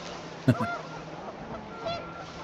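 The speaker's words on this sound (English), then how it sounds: "The wind picked up, and panicked geese appeared and quickly went." Panicked geese honk in the video game What Remains of Edith Finch, two sharp close honks in quick succession followed by a fainter honk a moment later, over a steady windy background.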